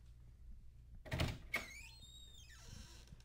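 Door opening as a guest enters on a parody talk-show set, a quiet thump and rattle of the door followed by a brief creak, fairly close and alone without talk.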